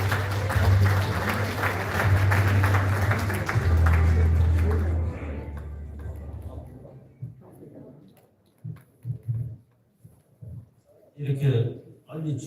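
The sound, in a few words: audience applause welcoming speaker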